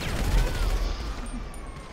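Fireworks going off in a video game, a loud sharp burst followed by crackling and whistling trails that fade over two seconds.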